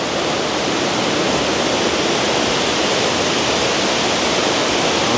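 Water pours down steadily from a tunnel at Villa Gregoriana, a constant dense broadband roar like a waterfall, loud and close, unbroken for the whole stretch with no voices.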